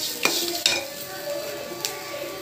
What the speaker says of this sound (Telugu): ఇప్పుడు మనం వేయించి పెట్టుకున్న కాకరకాయ ముక్కలు కూడా వేసి కలిపేద్దాం